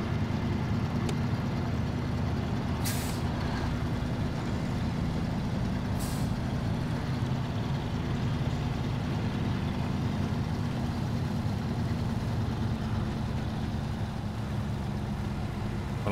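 A heavy truck engine labors in diff lock in the off-road driving game SnowRunner, a low, steady drone with a couple of sharp hissing bursts from air brakes, continuous and close.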